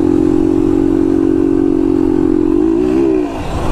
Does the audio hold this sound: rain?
no